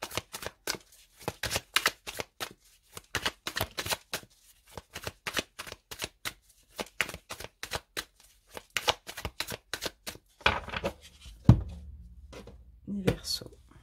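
A deck of tarot cards is cut and handled on a table, with a rapid series of crisp card slaps and riffles in uneven bursts, followed by softer thumps and rustling while someone speaks.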